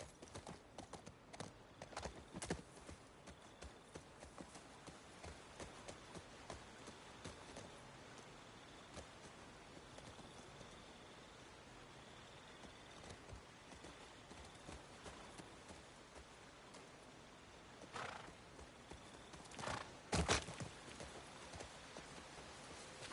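Horse hooves clip-clopping in The Last of Us Part 2 video game, a faint irregular clatter of steps over quiet ambience, with a few sharper bursts near the end.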